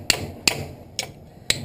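A hammer taps out a stubborn cotter pin on an old rail buggy with four sharp metallic strikes spaced about half a second apart, close and ringing, with no talking.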